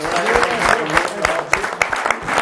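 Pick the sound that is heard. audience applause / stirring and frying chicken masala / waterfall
audience applause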